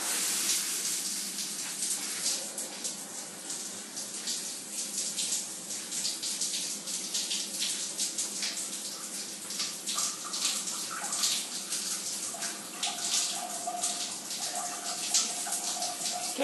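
A shower runs steadily in a bathroom, a constant close hiss of spraying water that holds at an even level throughout, with no voices over it.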